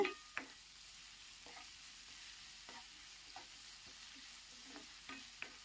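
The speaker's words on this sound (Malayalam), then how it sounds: "ഇനി നമുക്ക് നല്ലതുപോലെ ഒന്ന് വഴറ്റി കൊടുക്കാം." Garlic and tomato with salt sautéing in a pan over medium-low flame make a faint, soft sizzle broken by occasional light spatula taps and scrapes, quiet and unaccompanied by talk.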